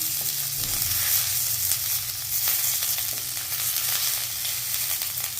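A handful of curry leaves fry in a pan with a dense, continuous sizzle and crackle, loud and close, steady throughout with faint stirring underneath.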